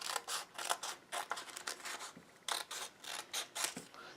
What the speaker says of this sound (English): what we need to do is simply cut off this extra piece